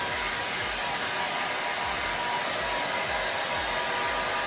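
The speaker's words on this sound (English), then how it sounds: "getting a dryer, the hair dryer. It's gonna help." Hair dryer blowing at a steady roar, loud and close, running continuously without a break and with no talking.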